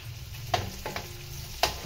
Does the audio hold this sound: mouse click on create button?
no